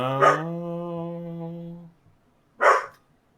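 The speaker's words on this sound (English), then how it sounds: "Shut up, dog." A dog gives a sustained, steady vocal tone for nearly two seconds, with a sharp short burst at the start and another after a brief pause. It is close and fairly loud.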